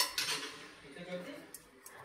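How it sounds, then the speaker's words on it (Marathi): Moong dal tipped into a kadhai while roasting chakli bhajni flour: a short, soft rattling rush of grains with a few light metallic clinks against the pan, fading quickly. "त्याच कढईमध्ये मुगाची डाळ घालून घेत आहे"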